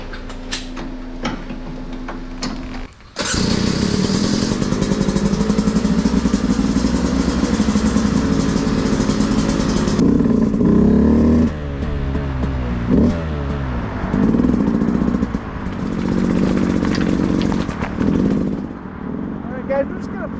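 A Beta 200RR dirt bike engine runs steadily after a quiet start, putting along at low speed with the clutch slipping, its drone loud and close. The pitch wavers as the throttle shifts, and a voice talks over the engine.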